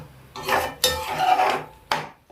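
Spatula scraping and clattering in a pan while spinach and egg stir-fry is mixed over high heat, three loud bursts of stirring close by with brief pauses between.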